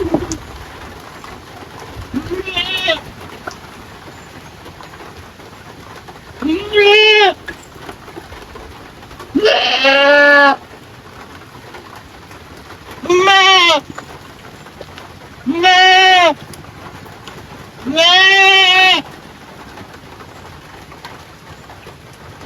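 A pregnant goat in labour bleats five times, loud and close, in drawn-out harmonic calls spaced a few seconds apart over a steady low background.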